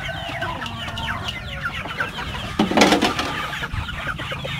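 Chickens cluck and chatter close by while being fed on a quiet countryside farm in the morning, with busy, overlapping calls and a brief louder squawk.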